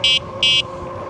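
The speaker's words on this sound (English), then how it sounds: "Now let's honk the horn." Two short, bright electronic horn beeps from an EUY S4 e-moped style electric bike, evenly spaced and loud, over a faint steady hum.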